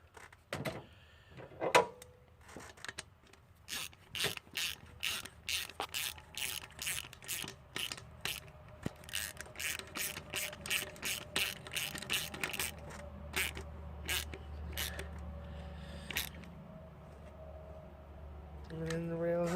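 Rapid clicking of a ratchet tightening bolts on a fuel rail during a 2.4 engine swap into a Neon, close and crisp in quick bursts throughout, with brief pauses and a faint background hum.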